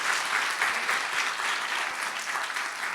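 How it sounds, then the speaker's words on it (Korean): Church congregation applauding at a revival service, a dense, steady wash of clapping hands filling the room without a break. "박수 쳐주세요"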